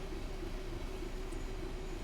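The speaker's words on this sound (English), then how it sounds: "So now I'm applying quite a lot of brake power because I did not realise we was coming up to a red just then." Class 66 diesel locomotive braking hard on the West Coast Main Line in Train Sim World 5, a steady continuous rumble with a droning tone, heard alone.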